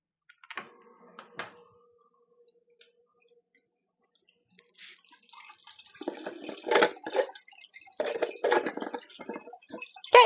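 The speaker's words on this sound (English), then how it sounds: "Okay, yeah, water's flowing" Water runs from a tap in a steady, splashy stream that grows louder, following a few clicks and light knocks.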